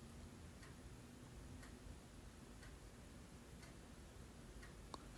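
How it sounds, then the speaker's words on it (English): Clock ticking at a slow, steady one-per-second pace through a quiet room, faint against a constant background hiss, with no voices. "I hear the clock ticking."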